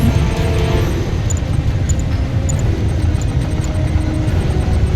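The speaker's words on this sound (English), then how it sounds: "Venom craft ready for liftoff." In the real-time strategy game Command & Conquer 3: Kane's Wrath, a Venom aircraft lifts off with a loud, steady roar of engine and rotor noise, broken by faint, regularly spaced high ticks, with no voices.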